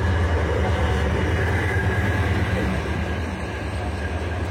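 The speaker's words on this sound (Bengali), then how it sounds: "মোহনগঞ্জ এক্সপ্রেস ট্রেনটি এখন Tejgaon rail station through pass করে যাচ্ছে" The Mohanganj Express, an intercity train out of Dhaka, runs straight through Tejgaon railway station with a loud, continuous rolling rumble and wheel roar that stays close and constant throughout.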